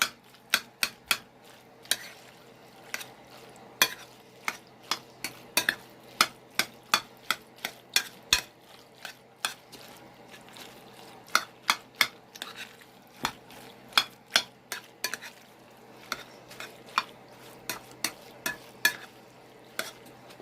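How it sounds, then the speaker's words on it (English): Extra sharp cheese gets stirred and cut into mac and cheese in a pot, heard as a long run of sharp, irregular spoon taps and clinks against the pan over a quiet background. "Start stirring that all up, cutting it in."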